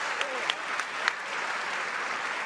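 A table tennis crowd at a European top-16 match applauds a point with sustained, even clapping from a large audience, a few sharper claps standing out near the start, and a commentator's voice faintly underneath.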